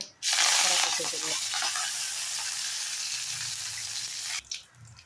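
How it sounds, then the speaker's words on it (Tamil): Mustard seeds dropped into hot oil for tempering spinach kadayal burst into a loud, dense sizzle and splutter that holds steady for about four seconds, then cuts off abruptly. "இப்போ அடுத்து நம்ம கடுகு போட்டுக்கலாங்க பொரிச்சாச்சு பொரிச்சாச்சுங்க"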